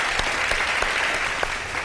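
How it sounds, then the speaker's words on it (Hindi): Studio audience applauding on a Ramadan iftar television show, a short burst of brisk clapping with a few sharp individual claps standing out. "इस पर खुसूसी तालियां बजाएं।"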